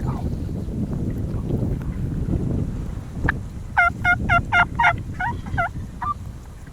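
A Rio Grande wild turkey gobbler gobbles in a rapid rattling burst, followed by a shorter second gobble, outdoors on a Texas riverbank. Steady wind rumbles into the microphone throughout.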